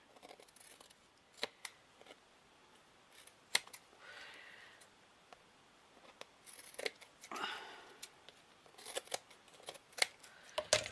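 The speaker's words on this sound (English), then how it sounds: "just chop off. Wrong scissors, girl." Repeated sharp snips of scissors cutting, irregular and close, with rustling paper handling between the cuts.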